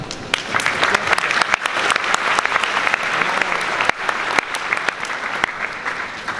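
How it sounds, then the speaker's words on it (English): Audience applause at a school assembly fills the hall: steady, dense clapping from many hands with sharp individual claps standing out, sustained throughout. "big applause to all of them again"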